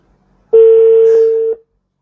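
A telephone tone sounds while calling a depot's number: a single loud, steady beep lasting about a second, alone against silence.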